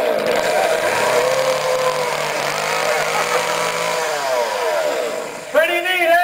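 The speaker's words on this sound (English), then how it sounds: "I will attempt to juggle one flaming torch, one fragile egg, and one turbocharged fuel-injected chainsaw" A chainsaw runs loud and steady, its engine pitch drifting, with a voice talking over it and a short rise near the end.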